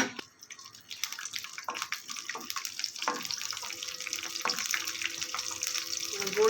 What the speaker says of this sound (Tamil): இப்போ நம்ம முந்திரி பருப்பையும் திராட்சையும் வறுத்துக்கலாம்.